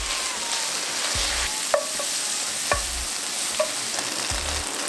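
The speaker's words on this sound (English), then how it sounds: "let's get our pan on and add some olive oil, the bacon, and the shallots" Bacon and shallots fry in olive oil in a pan over medium heat, giving a steady sizzle broken by three or four sharp stirring scrapes and clicks, close and alone.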